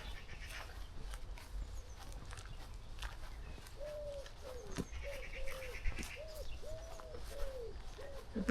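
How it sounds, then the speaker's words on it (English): A wood pigeon coos repeatedly in short phrases from mid-distance in a cemetery, over a steady outdoor background hum. "wood pigeon making himself heard."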